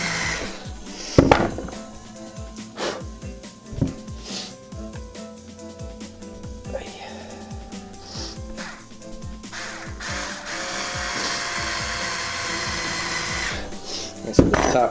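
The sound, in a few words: driving screws into pine wood of a cello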